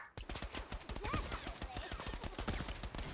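Rapid video game gunfire crackles in dense bursts, close and loud and nearly continuous, with a voice faintly under the shots.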